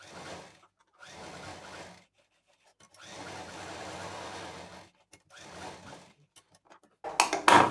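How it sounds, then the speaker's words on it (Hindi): Sewing machine stitching cloth for a book or diary cover, running in four separate bursts of steady mechanical whirring with brief pauses between them, close and clear, followed by a short louder clatter at the end. "इधर इतना छोड़ते हुए यहाँ डबल मशीन चलाते हुए इसको पूरा हम पैक कर देंगे"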